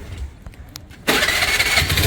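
A Honda Activa scooter starts up: a few faint clicks, then the engine catches abruptly about halfway through and runs on at a loud, steady, close idle.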